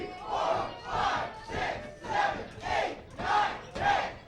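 A pro wrestling crowd chants in unison, with seven loud rhythmic shouts evenly spaced about half a second apart, like a group counting aloud during a ringside beating.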